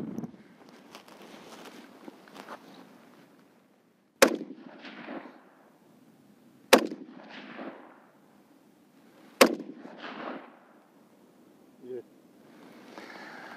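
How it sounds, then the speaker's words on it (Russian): Three sharp rifle shots fired at a target through a WestHunter HD 1-6x24 scope, spaced a few seconds apart, each loud crack followed by a brief echo, with quiet talk before and between them. "И делаешь в правую мишень 3 выстрела."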